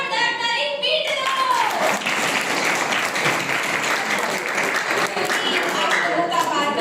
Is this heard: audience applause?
yes